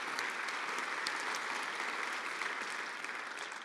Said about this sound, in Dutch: Ook jij krijgt nogmaals een hartelijk applaus.